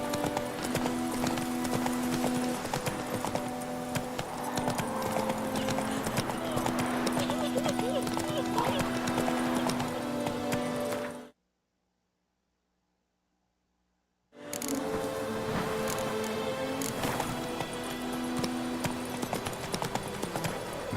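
Roach the horse clip-clops along in The Witcher 3, hooves beating in a steady rhythm under continuous game dialogue and music, then a short silent gap before the trotting resumes.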